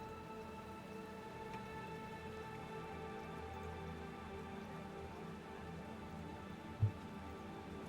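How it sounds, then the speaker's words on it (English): Steady, soft rain hiss in the Planet Coaster 2 video game, an even patter throughout with one small tap near the end and no voices. "It could be because it's raining."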